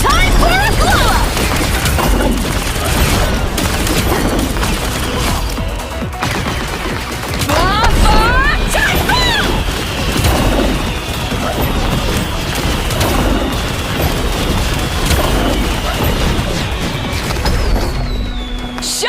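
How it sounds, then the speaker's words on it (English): Jubilee's firework ultimate from Marvel Rivals, a dense barrage of crackling bursts, pops and booms that repeats without a break, loud and busy with whistling streaks among the game effects. "Jubilee fires a cluster of fireworks that launch nearby enemies backwards, as you saw, far enough to knock them off a ledge."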